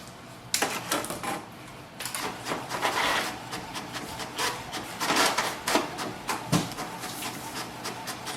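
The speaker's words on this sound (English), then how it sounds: "So printer is printing." A Canon Maxify GX5020 printer feeds and prints a page, giving a string of quiet mechanical clicks, rasps and shuffling bursts that come and go over several seconds, close by with no talking.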